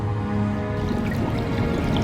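Water dripping in The Lord of the Rings: Gollum, a steady trickle and scattered drips over a dense, loud background drone.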